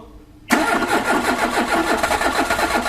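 A Renault Clio 16S engine cranks and fires after ten years sitting idle, running on ethanol-laced fuel, bursting to life abruptly and settling into a loud, rough, pulsing idle close by.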